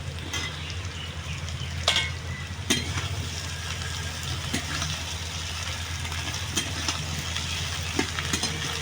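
Okra, onion and potato fry in a pan with a steady low sizzle and occasional stirring clicks and scrapes, moderately quiet and without talk.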